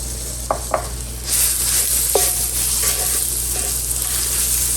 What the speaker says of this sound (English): I'm just going to saute these collard greens.